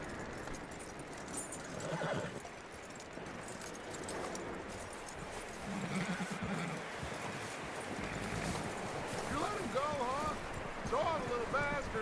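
Horse in the video game Red Dead Redemption 2, with clip-clopping hooves and whinnying against steady outdoor ambience, plus bird chirps toward the end.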